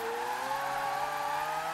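A car engine hums steadily during a slow second-to-third gear change, revs easing down smoothly at moderate distance with no voices.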